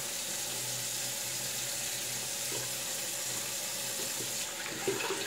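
A tap runs steadily as a double-edge razor with a Treet Platinum blade is rinsed under it, a continuous close hiss of water with faint knocks near the end.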